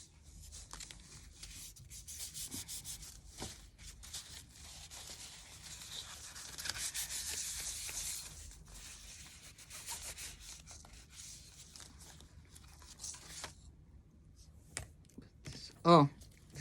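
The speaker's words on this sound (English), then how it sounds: "Get my little sandpaper here." A wooden Easter bunny stand is hand-sanded with sandpaper, giving soft, steady scratchy rubbing strokes that build through the middle and then taper off, followed by a brief sharper knock near the end.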